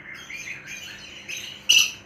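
Pet cockatiels chirp softly and continuously close by, then one lets out a sharp, loud squawk near the end of the short burst.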